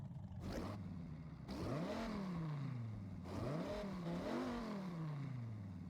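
A Dodge Ram SRT-10 pickup's 8.3-liter V10 in Forza Horizon revs up in two long, climbing sweeps that dip and rise again, loud and close with no talk.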